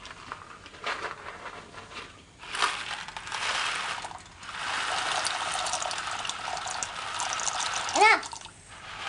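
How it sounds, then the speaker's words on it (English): Dry macaroni is dropped into a pot of water in a home kitchen for mac and cheese, giving a few scattered rattling, splashing bursts with voices around. "Put that macaroni in the water now."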